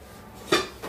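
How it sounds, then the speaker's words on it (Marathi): Uncooked cheese-topped veg pizza set down onto a metal tava, giving a single sharp metallic clatter midway through an otherwise quiet kitchen moment, with a fainter knock just after. "आपण तव्यावर ठेवूया।"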